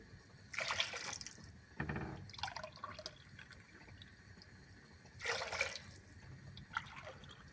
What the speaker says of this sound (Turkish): İki buçuk su bardağı portakal suyunu koydum içerisine